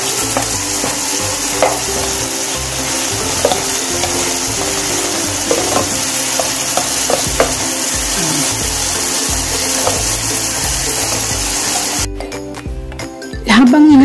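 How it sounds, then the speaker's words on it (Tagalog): Beef strips stir-frying in a pan with instant-noodle sauce, giving a loud continuous sizzle with scattered utensil scrapes and taps that drops away sharply near the end. "Habang hinahalo natin yung ating beef strips"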